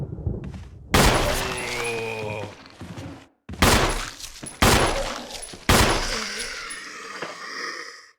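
Handgun shots fired at a zombie in the 2002 Resident Evil game, four loud sharp blasts spaced about a second apart, each with a ringing decay and shattering tail.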